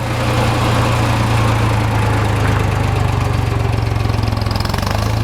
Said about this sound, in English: Would you like to take a tractor ride?